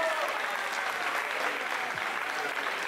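Strong, steady audience applause for Rama at a beatbox battle, the Duelo de Parlantes 2023 round of sixteen, filling the clip as a continuous crowd roar.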